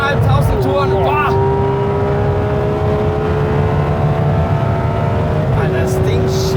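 A Ferrari 812 Competizione V12 pulls hard in third gear on the Autobahn, a loud, high, steady engine wail climbing to its 9,500 rpm limiter, with brief gear-change dips near the start and end.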